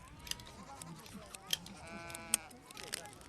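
A few short, wavering sheep bleats rise over a busy outdoor camp of yurts and carts, with faint voices and clatter nearby.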